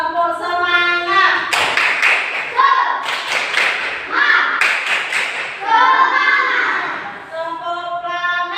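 Children in a primary classroom perform a rhythmic clap chant, bursts of patterned clapping alternating with an adult's and children's sung voices, loud and close.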